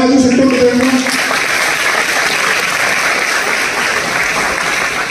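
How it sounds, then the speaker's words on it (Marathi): An audience at a career guidance talk for students breaks into loud, sustained applause, dense and continuous, with a voice speaking briefly at the start. "या सर्व कार्यक्रम ऑर्गनाईज करण्यासाठी एक जोरदार टाळ्या वाजवू शकतो मित्रांनो."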